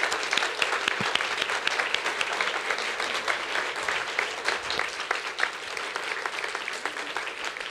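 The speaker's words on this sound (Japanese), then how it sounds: "Let's give her a hand." A lecture audience applauds steadily throughout, a dense, even wash of many hands clapping at moderate loudness with no pauses.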